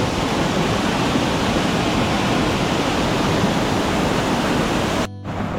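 Flooded Kajali river rushing after heavy rain in the Konkan, a dense, loud, unbroken roar of fast water up close that cuts off abruptly at the end.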